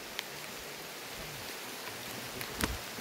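Steady rain falls outdoors as a constant broadband hiss, with a few faint knocks and rustles in it and no talking.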